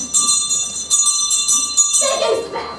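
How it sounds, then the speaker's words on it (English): A school bell rings in a loud, steady metallic peal for about two seconds, then stops and a voice begins speaking. "There goes the bell."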